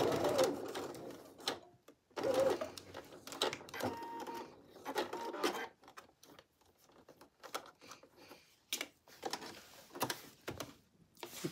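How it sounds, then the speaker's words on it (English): Sewing machine basting dress straps to a bodice with long stitches, short bursts of stitching broken by quiet pauses, close and fairly faint. "I'm gonna baste that in place"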